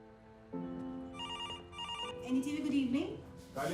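A telephone rings in a newsroom with repeated bright bursts of bell tones, while voices talk over and around it.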